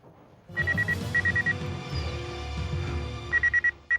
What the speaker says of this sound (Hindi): घंटी तभी भी बज रही है।